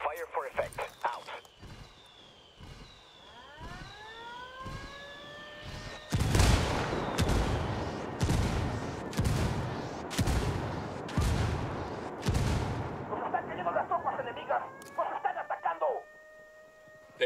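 An artillery strike hammers down in Ghost Recon Wildlands: whistling incoming shells, then a rapid series of heavy booming impacts, loud and close, with voices talking in between.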